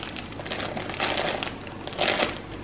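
A mattress is pulled from its cardboard box, with bursts of crinkling and scraping packaging noise that swell twice, close and moderately loud.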